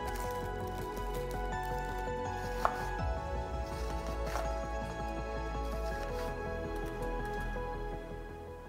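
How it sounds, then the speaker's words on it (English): Knife chopping heirloom carrots on a board, a steady run of close, soft cuts with faint wet squishing and no talk. "3 small carrots, roughly chopped."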